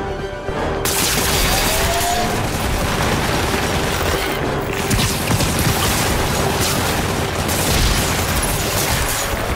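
Sustained, dense gunfire and explosive booms in the video game Marvel's Spider-Man, a loud continuous barrage of shots and bursts with no pause for nearly ten seconds.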